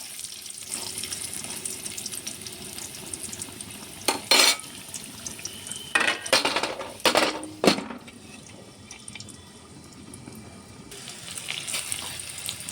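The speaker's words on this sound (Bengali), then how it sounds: "পেঁয়াজ আলু একসঙ্গে ভাজা হয়ে গেল, লাল করে ভেজে নিয়েছি" Onions and potatoes frying together in a pan, a soft sizzle broken by several bursts of louder stirring and spatula scrapes, close by, no speech.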